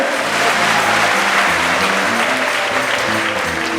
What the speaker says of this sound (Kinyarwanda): mukomere imana amashyi mushimire.